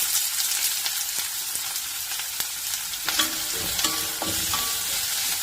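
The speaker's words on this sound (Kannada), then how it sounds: "ಈರುಳ್ಳಿ ಫ್ರೈ ಮಾಡೋಣ." Onions frying in a few spoonfuls of oil for a capsicum curry, a steady close sizzle with occasional spoon-against-pan scrapes and clicks from stirring, no voices.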